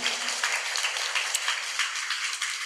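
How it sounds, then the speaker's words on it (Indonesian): Congregation applauding at a Catholic Mass opening the Season of Creation, a dense burst of many hands clapping together, steady and fairly loud, with no talk over it. "Kita boleh beri tepuk tangan kepada kita semua dengan meriah."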